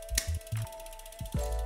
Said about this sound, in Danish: du kan gå ind med en tang, og så lige klik her